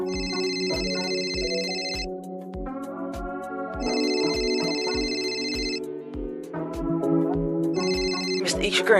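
A phone rings with an incoming call, its electronic ringtone repeating in bursts over a steady ticking beat and other background sound, fairly loud throughout.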